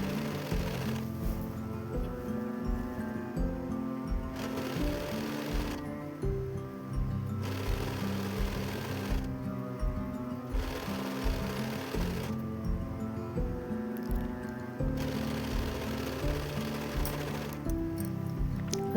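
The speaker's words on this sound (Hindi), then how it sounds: "मोड़ते हुए इस पर मोटी सिलाई चला देनी है।" A sewing machine runs steadily, stitching a folded blouse hem in rapid rhythmic bursts with brief pauses and pitch shifts as it speeds up and slows, close and continuous.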